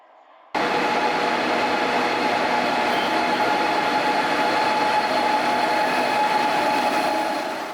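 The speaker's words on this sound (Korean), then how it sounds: "오늘은 행신역으로 가는 KTX를 타보도록 하겠습니다." A steady, loud rumble of a KTX high-speed train on the Gyeongui Line toward Haengsin Station, with broadband rushing noise and a faint tonal hum, starting abruptly after a quiet moment and continuing without talk.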